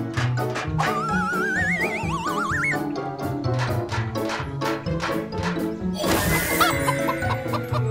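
A cartoon chicken clucks in a quick run of calls over busy background music and sound effects, with whistly sliding tones early on and a bright burst near the end.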